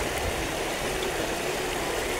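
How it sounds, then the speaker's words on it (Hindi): Water of a shallow stream rushing over stones, a steady soft broadband wash with no breaks and no voices. "तन्वी पानी में हाथ डाल रही है और पत्थरों से खेल रही है।"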